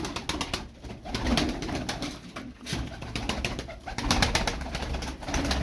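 Tumbler pigeons kept as play birds coo close by in soft, repeated throaty calls, layered over a fast rhythmic clatter that may be flapping wings.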